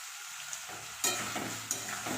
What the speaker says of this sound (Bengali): পেঁয়াজ আদা রসুন সব একসাথে আলুর সাথেই ভেজে নেব ভালো করে